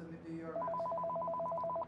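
Inside the video game Accounting+, a phone gives off a fast, trilling ring that keeps a steady warble for more than a second, with a voice talking beneath it.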